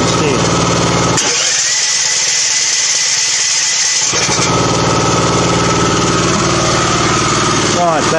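Small 13HP engine being started with its starter, a dense mechanical whirring that cuts out briefly then catches and runs steadily and loudly near the microphone, with a voice talking over it.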